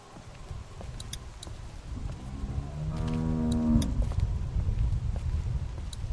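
A cow in The Walking Dead video game gives a single drawn-out, low moo midway through, rising and swelling over a steady background rumble before trailing off.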